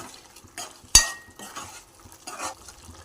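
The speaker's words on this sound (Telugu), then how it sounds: "ఒక టూ టేబుల్ స్పూన్ నూనె వేసుకుందాం వేసుకొని ఒకసారి కలుపుకుందాం" A spoon stirs freshly added oil through a mutton and okra tamarind stew in a cooking pot, giving one sharp close clank followed by soft scraping strokes and a gentle sizzle, with no talking.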